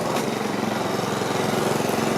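A lawn mower runs steadily close by in a park setting in Toronto's Fort York neighbourhood, a continuous droning engine hum with no break and no voices over it.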